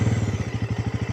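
A Bajaj Pulsar NS400Z motorcycle idles close by, its engine and exhaust thumping in a steady, even pulse with no talk over it.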